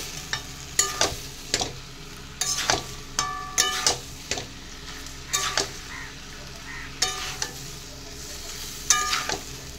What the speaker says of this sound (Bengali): সমস্ত কিছু খুব ভালো করে মিশিয়ে নিচ্ছে